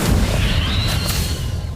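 Fiend Fire spell cast in the Harry Potter: Magic Awakened video game, a loud, dense roaring burst with heavy low rumble and a thin rising whistle, sustained at steady volume for under two seconds.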